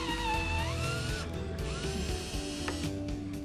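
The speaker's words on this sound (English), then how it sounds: "let's drill a few holes to take the screws. I'm using a countersink bit in my drill" A power drill with a countersink bit bores holes into wood during a rotten door frame repair, a loud, close whir that shifts pitch as the bit bites and eases, with no talk over it.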